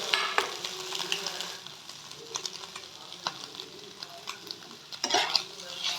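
Grated paneer stirred into frying vegetables in a pan, an ongoing sizzle under repeated scraping and clattering stirs, louder near the end, with faint talk in the background.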